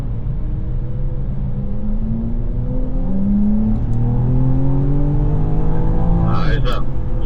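A BMW M4 GT4 race car pulls out onto the track. The loud engine climbs steadily in pitch as it speeds up, and near the end it shifts up with a brief higher whine.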